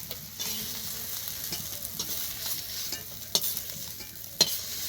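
Brinjal slices fry in hot oil in a wok over a wood fire, a steady low sizzle with scattered crackles and a couple of sharp pops, fairly quiet and with no talk.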